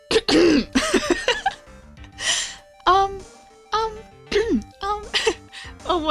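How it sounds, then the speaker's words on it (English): A person clears their throat several times in short, rough bursts mixed with coughs and gasps, close to the microphone, with brief vocal sounds in between. "I really do actually need to clear my throat"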